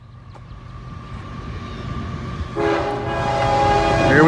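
A train on the Toledo Sub in Sidney, Ohio rumbles past as a loud horn blasts in, sustained and growing louder toward the end.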